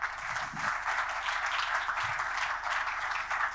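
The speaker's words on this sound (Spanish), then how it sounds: "Aplausos para él." Applause from a conference audience welcomes a speaker to the stage, a continuous wash of clapping at moderate level with a low hum underneath and a few murmured sounds.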